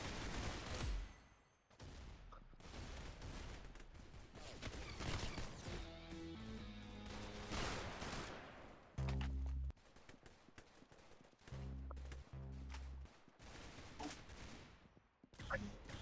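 Rapid bursts of gunfire from the Roblox video game crackle in clustered volleys under near-constant chatter, with heavy thumps and music-like tones mixed in.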